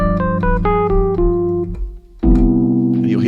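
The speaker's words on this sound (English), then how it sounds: "And the Mixolydian flat 9, 13, which kind of sounds like this." A Mixolydian flat 9, 13 dominant chord sound, played on keys as a quick rising run of notes over a held low tone, then a fuller chord struck and sustained, with no talking.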